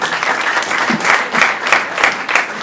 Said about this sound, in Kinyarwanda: mukomere Imana amashyi menshi cyane